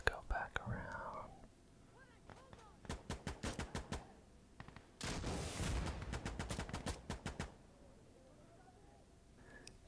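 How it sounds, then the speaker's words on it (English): Gunfire in a first-person shooter game, heard as quick bursts of sharp shots in rapid clusters, with a dense sustained volley in the middle, under soft whispering. "Shooting blind into that spot."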